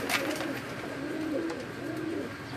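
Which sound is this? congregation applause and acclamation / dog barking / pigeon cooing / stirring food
pigeon cooing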